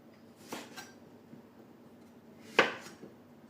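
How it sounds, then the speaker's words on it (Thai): A knife chops vegetables for a Thai eggplant and beef curry, two or three isolated cuts against a board. The strongest cut lands sharply near the end, over a quiet, low kitchen background. "ไปหั่นไปจนเสร็จ"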